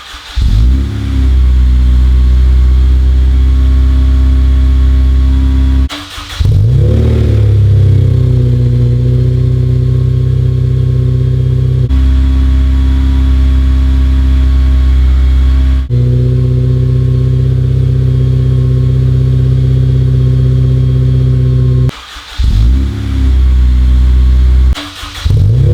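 An Acura RSX/Integra Type R with a K20A engine and HKS 2.5-inch Hi-Power aftermarket exhaust revs repeatedly, holding a deep droning tone between sharp throttle blips, with no talking.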